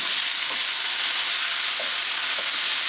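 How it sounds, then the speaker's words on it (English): Corned beef hash with potatoes fries in a pan, giving a constant, loud, hissing sizzle. A few faint scrapes from stirring sound beneath it. "you definitely want to stir this every couple of minutes. You want to make sure nothing is sticking, nothing's burning"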